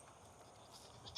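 A goat bleats faintly at a tiny house build site while being fed lettuce, giving one short distant call against quiet outdoor background noise.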